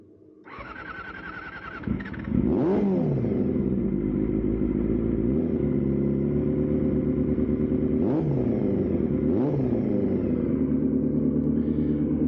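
A sport motorcycle in grey and Repsol orange cranks and fires up, then settles into a loud, close idle broken by several sharp throttle blips and revs.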